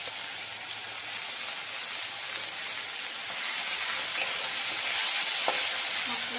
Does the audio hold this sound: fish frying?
yes